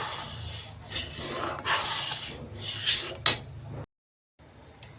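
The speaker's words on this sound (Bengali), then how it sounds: "এইদিকে এই দুধটা এরকমভাবে নাড়তে থাকবে।" Milk being stirred in a pan for Bengali misti doi, with repeated soft scraping and rubbing strokes against the metal, fairly close, in irregular bursts with a brief silent gap near the end.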